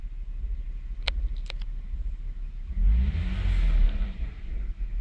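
Lexus ES300 engine idling with a rough low rumble, then revving up toward 2500 RPM partway through and holding a louder, steady drone, with a couple of sharp clicks near the start.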